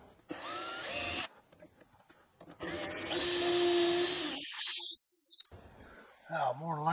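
A power drill bores into a clamped workpiece while a wooden grooming table is built: a loud, steady whine runs for about three seconds between quieter stretches, with voice-like tones before and after.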